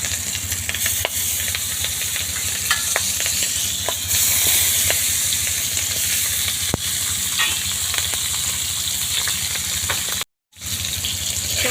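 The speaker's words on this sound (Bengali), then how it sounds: "এবার মাছগুলো আমি একে একে কড়াইতে দিয়ে দিব।" Fish slices fry in hot oil in a wok, giving a loud, steady sizzle with scattered crackles and pops throughout, briefly cut off near the end.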